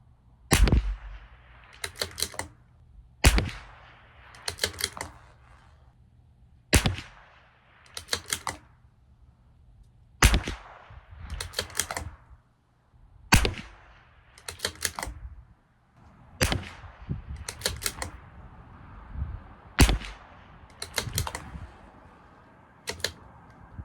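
A CZ 457 LRP rifle with an IBI barrel firing Eley Team ammunition at a 200-yard range: a steady series of sharp, loud cracks spaced a couple of seconds apart, each followed by a short clattering tail, with no talk.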